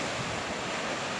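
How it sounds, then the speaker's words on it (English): Ocean waves splash against rocks on the coast at Las Cuevas near Fort Abercromby, Trinidad and Tobago, a steady, close rushing wash of surf with wind noise. "listen to the waves just splashing the rock"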